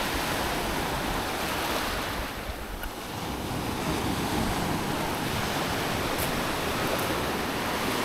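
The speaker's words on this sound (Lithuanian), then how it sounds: "Va, kokia jūra." Sea waves washing onto a beach on Crete at night, a continuous broad roar of surf with wind buffeting the microphone, steady and loud throughout.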